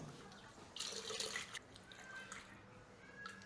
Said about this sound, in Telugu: కొంచెం వాటర్ కలుపుకుందాం